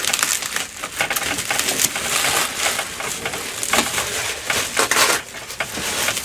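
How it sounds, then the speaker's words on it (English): Cardboard packaging crackles and rustles as replacement guitar speakers for a 2x12 cabinet are unboxed, with dense scraping, tearing and crinkling bursts close by and no talking. "first we need to unbox these."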